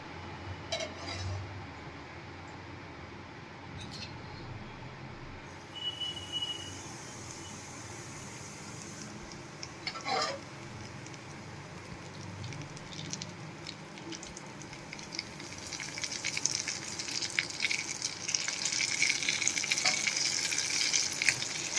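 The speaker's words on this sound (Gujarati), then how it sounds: "તો આપણું તેલ એકદમ સરસ ગરમ થઈ ગયું છે। હવે આપણે આમાં તેલ એડ કરશું।" Hot oil poured over a fenugreek and chickpea pickle mix. A soft, steady sizzle swells into a brighter, louder crackle in the second half, heard close up with no talking.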